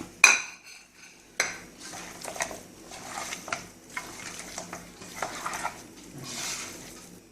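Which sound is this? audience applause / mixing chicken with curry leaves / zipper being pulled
mixing chicken with curry leaves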